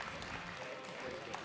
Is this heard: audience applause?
yes